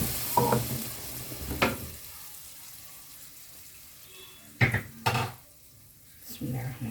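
A spoon stirs frying garlic and yellow lentils in a cooking pot, with a few distinct scraping strokes and clanks standing out over a low, steady sizzle; little speech.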